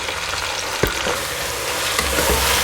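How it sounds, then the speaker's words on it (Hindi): Onions fry in oil with a dense, steady sizzle, punctuated by a couple of brief knocks from a utensil against the pan. "सबसे पहले मैं इसमें प्याज डाल रही हूँ"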